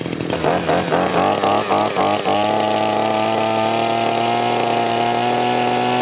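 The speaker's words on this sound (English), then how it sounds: "just get everything in the engine flowing around before you rev it up" A Mountfield 5-in-1 multi-tool two-stroke engine starts with rough sputtering pulses, then settles into a loud, steady, buzzing idle close by.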